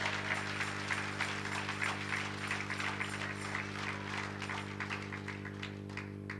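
A church congregation applauding together to acclaim the Lord, dense continuous clapping at a steady level under a sustained low organ-like drone, lasting several seconds.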